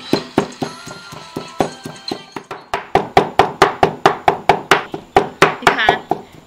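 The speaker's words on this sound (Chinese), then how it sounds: "两下就把肉剁好了" Pork ribs chopped with a cleaver on a board, a steady run of loud, sharp thuds that quickens into an even rhythm, close and mostly alone with faint background sound.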